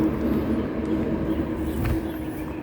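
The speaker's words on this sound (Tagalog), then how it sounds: "Dinig na ang tunog ng mga sasakyan" Steady traffic rumble from passing vehicles near a hiking trail in Discovery Bay, Hong Kong: a continuous low, broadband drone with no distinct pass-bys, moderately distant and unbroken throughout.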